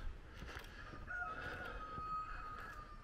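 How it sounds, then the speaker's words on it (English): A cockerel crows faintly in the distance on a countryside walking path near a picnic area, heard as one drawn-out call over soft wind and outdoor ambience. "Oh, somebody's got a cockerel there."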